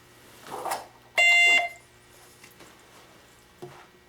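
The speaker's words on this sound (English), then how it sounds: "we also had a quick beep sound to tell us that this particular team had rang in" A quiz lockout system gives a single sharp electronic beep as a player rings in, loud and buzzy for about half a second, with faint handling noises before and after.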